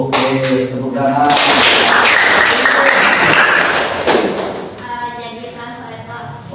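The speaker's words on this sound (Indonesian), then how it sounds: "Oke, tepuk tangan." A classroom in Bandung breaks into loud, dense applause for a student, a sustained burst of many hands clapping for a few seconds before fading under renewed talk.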